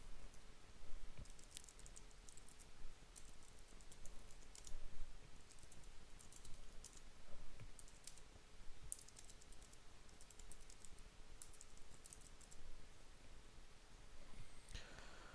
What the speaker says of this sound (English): So, in order to begin your transcription, you simply start typing